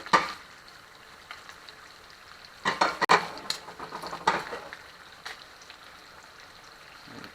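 Eggs cook in butter with thyme and rosemary in a cast iron pan, giving a faint sizzle broken by a few sharp metallic scrapes and clinks of a utensil against the pan.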